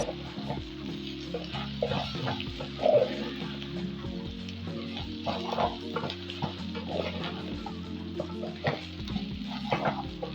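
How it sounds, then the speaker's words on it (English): Tomato paste sizzles and fries in a pot for Kenyan beef and potato pilau, a steady close crackling with occasional scrapes and stirring knocks throughout, no talking. "It is at this stage that I'm going to add in the tomato paste, and we're going to let it cook for around 3 more minutes."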